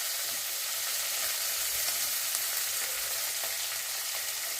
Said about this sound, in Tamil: நல்லா வெண்ணெயில் வதங்கியாச்சு.